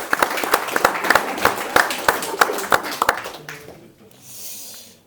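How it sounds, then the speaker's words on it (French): An audience claps for a pointer dog placed first excellent at a field trial results ceremony, a short burst of scattered, fairly close hand claps that thins out and fades after about three seconds. "Je pense qu'on peut l'applaudir"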